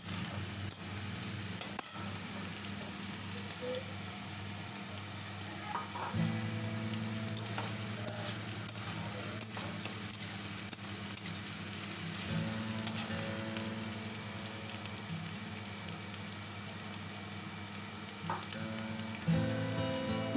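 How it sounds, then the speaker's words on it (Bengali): Onion paste and green chilies sizzle steadily in a pan while being sautéed for a prawn curry. The frying hiss is continuous with occasional stirring clinks, and no one speaks. "এবার পেঁয়াজ বাটাটাও দিয়ে দিলাম। এবার ভালো করে কষতে হবে।"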